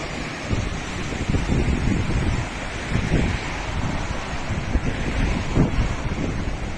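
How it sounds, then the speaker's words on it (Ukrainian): Continuous rushing sea surf with foaming water and strong wind buffeting the microphone, a steady broadband roar throughout. "А тут піді мною таке море піниться"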